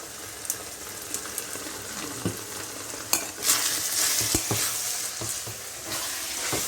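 Ground pork for picadillo sizzles in a pan, a continuous hiss broken by sharp clinks and scrapes of a spatula stirring the meat, growing louder and busier partway through.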